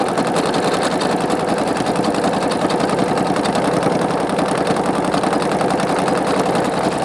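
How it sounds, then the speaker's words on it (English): A Singer Quantum Stylist 9960 sewing machine stitching metallic thread, a steady, fast, even mechanical whir with fine rhythmic ticking from the bobbin area, loud and close throughout. "it sews very quiet, so it's very nice. Except for that bobbin sound like we always have on a Singer."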